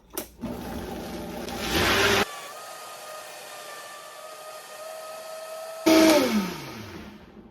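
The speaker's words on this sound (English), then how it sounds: "I put it up on the Vitamix blender and we will mix this up." A Vitamix blender whirs loudly while mixing a berry smoothie, running for about two seconds, then dropping to a faint hum before a short final burst that winds down.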